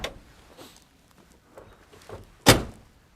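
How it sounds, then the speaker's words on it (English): A car door on a 1973 Ford Galaxie 500 with a 400 V8 shuts with one solid, close thunk near the end, after softer handling clicks and rustles. "Beautiful door closing sound on these Fords."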